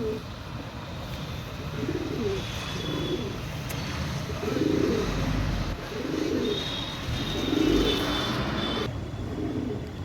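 Soft, repeated cooing from a female Rice pigeon, several low rounded phrases at steady intervals over a constant background hum, fairly close.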